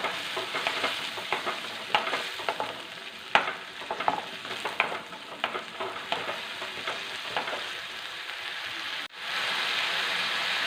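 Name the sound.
sautéing tomatoes in oil for rasam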